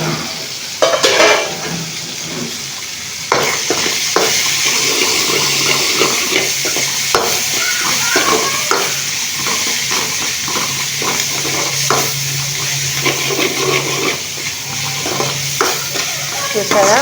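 Amaranth leaves and egg fry in a pan while being stirred, with a loud, steady sizzle broken by repeated scraping strokes of the spoon against the pan throughout.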